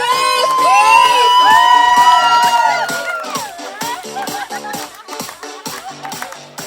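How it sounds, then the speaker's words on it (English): A wedding crowd cheers and whoops loudly over music, the roar peaking early and then tapering off into scattered shouts and claps as the music continues. "Huge round of applause, please!"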